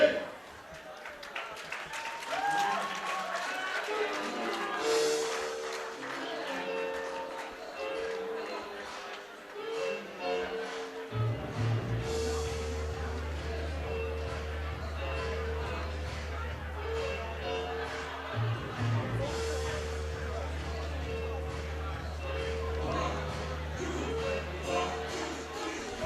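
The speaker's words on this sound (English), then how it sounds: "He's got a lot of support from the crowd, as you can hear." A crowd at a cage fighting event at Kassam Stadium cheers and applauds a fighter's walk to the cage, a steady roar from a distance under a voice talking and loud entrance music.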